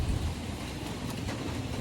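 Light rain falls during an early morning walk before sunrise, a steady broadband hiss close around the listener, even in loudness throughout with no speech.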